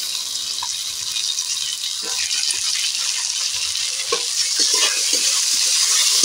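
Tomato drops into a pan of frying onion and ginger paste with a steady hiss that swells slightly, while a spoon stirs and scrapes in scattered knocks. No one speaks.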